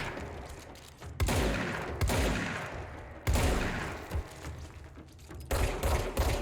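Heavy shotgun blasts in the game Control boom in a slow sequence of roughly four or five loud shots, each followed by a decaying rumble and clatter of combat effects.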